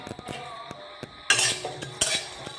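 Whole spices (nutmeg, mace, cumin, coriander, cloves, cardamom and cinnamon) are dry roasted in a wok, with metal spatula scrapes and clinks and faint rattling, close and fairly quiet.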